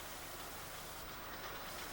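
Steam locomotive Winston Churchill drifting slowly into a passing loop on a misty morning, a soft steady hiss and low rolling rumble of wheels on rail, with no talk.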